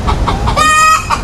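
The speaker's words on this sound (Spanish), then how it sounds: "A ver, vamos a escuchar el sonido," Chicken clucking in a short burst of repeated clucks rising into a drawn-out cackle, loud and close, with no talking over it.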